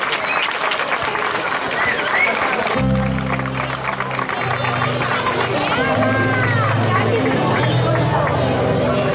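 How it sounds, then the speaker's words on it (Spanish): Audience applause at a village festival's opening ceremony in Hoya del Campo, a broad steady wash of clapping and crowd noise, with music and a spoken voice layered over it. "Un fuerte aplauso."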